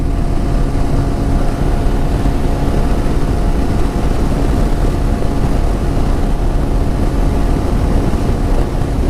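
TVS Apache RTR 200 4V motorcycle riding at high speed around 120, a steady loud engine drone mixed with heavy wind rush, constant and unbroken.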